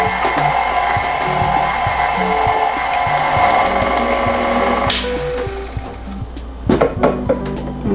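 A stand mixer beating four blocks of cream cheese with sugar in a bowl, a loud steady motor whir with rhythmic thumps that cuts off partway, followed by clattering and knocking.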